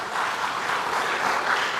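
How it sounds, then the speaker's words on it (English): Steady applause from a conference audience for a panel at a students' conference, an even wash of clapping with no pauses and no voices on top. "Please let's clap for them."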